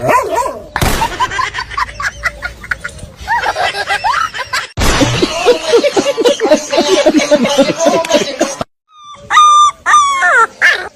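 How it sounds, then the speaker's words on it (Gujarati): A dog barks, yips and whimpers close by in loud, irregular bursts, with a brief silent gap before a few final high yelps. "એ વાઘુજી આપણે એક કૂતરો પાડવો છે"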